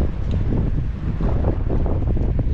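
Strong wind buffeting the microphone at sea during night fishing, a steady loud rumbling roar with water and boat noise underneath, no voices.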